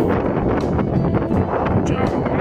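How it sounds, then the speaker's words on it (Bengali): Strong wind with light rain at the Orange Valley tea garden in Darjeeling, heard as a loud, continuous, rushing roar that fills the short clip without pause. "প্রচন্ড হাওয়া দিচ্ছে আর সেই সাথে হালকা বৃষ্টিও আরম্ভ হয়েছে"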